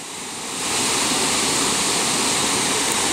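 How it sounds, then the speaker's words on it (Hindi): Chitrakot waterfall in Bastar, Chhattisgarh, with water plunging from a great height: a loud, steady, broadband roar that swells within the first half second and then holds unbroken. "और इतनी ऊंचाई से गिरते पानी की आवाज़ भी सुने"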